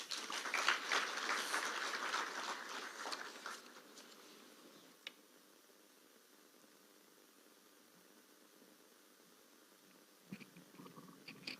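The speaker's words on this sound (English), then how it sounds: "Another round of applause for Honorable Mokaya" Audience applause at a Supreme Court anniversary ceremony attended by President William Ruto, a round of clapping that fades after a few seconds into quiet room tone, with a brief faint ripple of claps near the end.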